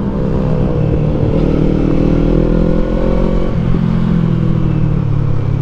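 2024 Kawasaki Eliminator motorcycle with an Akrapovic exhaust, riding along with a loud, steady engine drone and a slight rise and dip in pitch as the throttle shifts, wind noise underneath.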